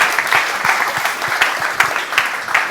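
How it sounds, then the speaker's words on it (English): Conference audience at GopherCon Europe 2022 bursts into sustained applause, a dense wash of many hands clapping steadily and fairly loud throughout, with no voices over it. "Give yourselves a round of applause."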